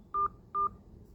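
Two short, identical telephone keypad beeps sound as a PIN is entered on an ICICI Bank phone line. They are clean, evenly spaced and close, over a faint line hum.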